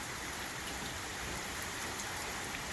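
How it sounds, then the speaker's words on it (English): Heavy rain pours steadily during a thunderstorm, a dense, continuous hiss of drops striking surfaces close by, with no voices and no clear thunder rumble. "Yeah, I love this rain."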